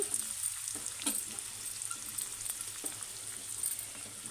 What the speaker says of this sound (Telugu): ఈ మొత్తం కొంచెం ఫ్రై అయ్యేదాకా ఒక రెండు నిమిషాలు అలా పెట్టేద్దాం